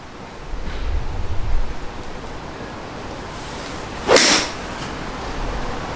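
A single sharp crack of a golf ball struck by a 2019 Taylormade P790 iron, a short bright impact over steady outdoor background noise, with no one speaking.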